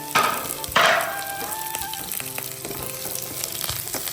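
Onion, lentils, green chili and ginger sautéing in a pan, a close sizzle with two sharp bursts of spattering early on, then a lighter crackle with soft stirring knocks.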